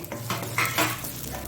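Garlic frying for a Mangalore-style squid roast, with a soft, steady sizzle and stirring scrapes of a utensil against the pan, close and continuous, no voices.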